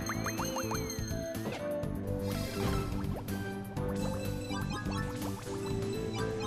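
Water flowing and dripping in the Kirby and the Rainbow Curse video game, with liquid gurgles and drips woven through steady, busy game music that continues throughout.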